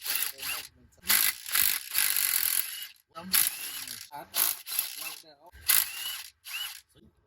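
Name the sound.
ratchet with 15 mm socket removing axle bolts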